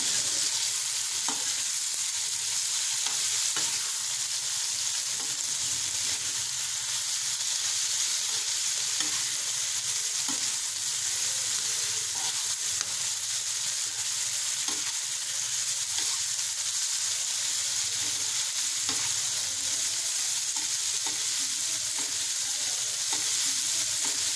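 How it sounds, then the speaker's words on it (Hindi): Egg keema with tomatoes frying and being stirred in a pan, a steady close sizzle with scraping strokes of the spatula throughout, no voices. "टमाटर ऐड करने के बाद इसको हम भूनेंगे।"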